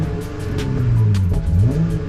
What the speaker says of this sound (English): you can kind of hear the exhaust.